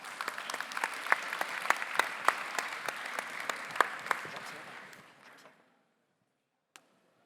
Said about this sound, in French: J'ai fait applaudir tout le monde.